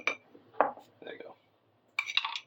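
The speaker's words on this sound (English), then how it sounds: "Stir it up a little bit with the sugar and the flour" Utensil clinking and scraping in a bowl while yeast is stirred together with sugar and flour for holiday bread, in a few short bursts separated by brief pauses.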